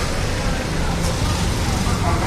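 Jammed traffic on Paper Mill road, a steady close roar of engines and road noise with a faint babble of people in the background.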